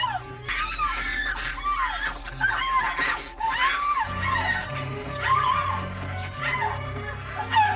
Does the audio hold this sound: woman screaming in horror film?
yes